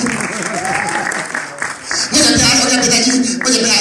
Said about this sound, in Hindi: तालियां बजाओ जरा।